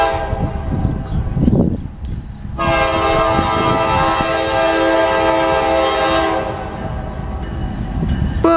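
Norfolk Southern northbound short autorack freight train passing in Marion, Ohio, with rumbling wheels throughout and a long, loud, sustained horn blast in the middle.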